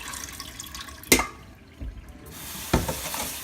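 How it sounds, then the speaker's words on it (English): Dirty rinse water is dumped out after washing lettuce, giving a running watery wash with two sharp splashing pours and a softer slosh between, close and fairly loud, no talking. "and then dump that dirty water out"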